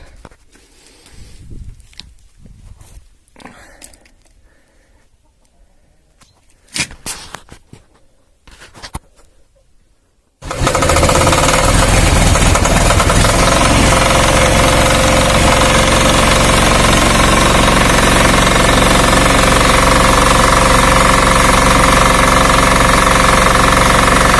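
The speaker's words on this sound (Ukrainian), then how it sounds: "Запускаємо двигун." A small 186F single-cylinder diesel engine on a generator or walk-behind tractor cranks and catches after about ten seconds of quiet shuffling, then runs loudly with a steady, harsh clatter.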